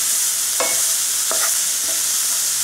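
Onion and capsicum tossed in a pan for chilli chicken 65, a steady broadband sizzle with three or four distinct scraping stirs spaced about half a second apart, close and fairly loud, no voices.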